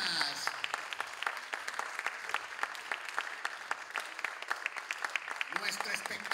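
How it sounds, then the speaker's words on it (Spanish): Sustained audience applause at a Colombian children's circus show in Peru, dense steady clapping filling the whole stretch with a brief voice near the end. "¡Aplauso fuerte para las gallinas!"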